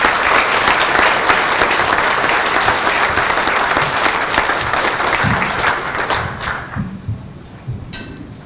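Sustained crowd applause at a business awards event, loud and steady for about six seconds before thinning out into scattered claps and a few thumps.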